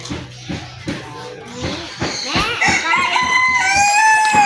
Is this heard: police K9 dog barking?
no